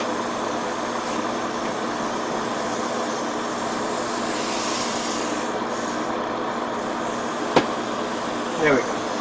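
An airbrush set to low pressure sprays water-based primer onto a 1/100 Gundam model kit. A steady, close airy hiss runs unbroken throughout.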